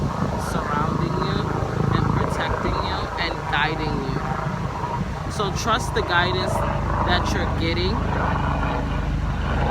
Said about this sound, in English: Excuse me, that's a helicopter.